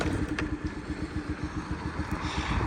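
A carbureted Honda Dio AF-62 49cc scooter idles close by at a very low, even putter, its fast regular firing pulses steady throughout with no voices.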